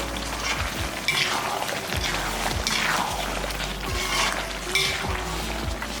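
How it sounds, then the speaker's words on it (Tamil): Chicken fry being stirred in a pan: a steady sizzle with repeated scraping and clinking strokes of a spoon against the metal, in an even rhythm, with no talk. "ஒரு வாட்டி நல்லா எடுத்து எல்லாத்தையும் நல்லா கிளறி விட்டுடலாம்"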